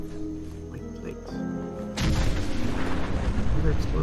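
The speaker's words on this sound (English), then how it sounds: "Another explosion. Because it was that vehicle blew up." In a video game, a vehicle blows up with a sudden deep, heavy boom that rumbles on for about two seconds, cutting in over quieter game sounds and a voice talking.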